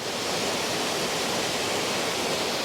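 Waterfall at Dipalo River Park in San Quintin, Pangasinan, a two-tiered falls with plenty of water, giving a steady, dense, loud roar without pause and no talking.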